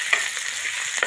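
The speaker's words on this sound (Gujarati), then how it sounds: "મિક્સ કરી નાખું." Coriander being stirred into a dosa mixture in a hot pan produces a short, close scraping sizzle with a couple of light clicks from the spoon, heard alone.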